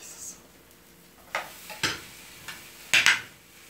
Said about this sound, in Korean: 숟가락에 소리가 좋은데